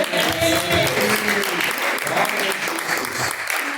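Church congregation applauds during a live worship service, a dense, continuous patter of many hands clapping at moderate distance, with voices mixed in.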